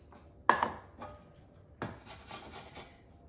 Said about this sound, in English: We are going to grate these potatoes